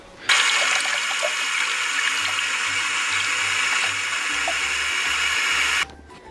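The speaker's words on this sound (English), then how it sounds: "I'm gonna fill one cup of filter water right now." Filtered water running from a tap into a cup, a steady close splashing rush lasting about five and a half seconds before cutting off abruptly.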